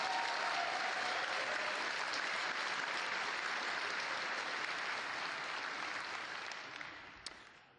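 An audience at the CCP keynote at Fanfest 2012 gives a sustained burst of loud, dense applause that holds steady and then tapers off toward the end.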